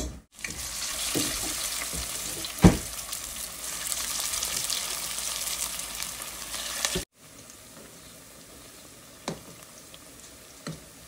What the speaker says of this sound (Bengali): তারপর আমি বেগুনি ভাজবো, তারপর পেঁয়াজও ভাজবো।